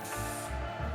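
Air hissing out of a bicycle tyre through its valve, a steady broadband rush lasting about a second, close and fairly loud with no talking.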